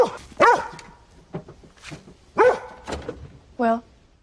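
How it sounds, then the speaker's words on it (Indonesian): A dog in a post-apocalyptic virus outbreak movie barks several times, loud and close, with a short whine near the end and a voice talking in the background. "ia akan mengurusi Doggy yang terus berisik"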